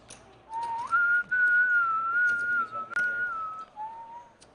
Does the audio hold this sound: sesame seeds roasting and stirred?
no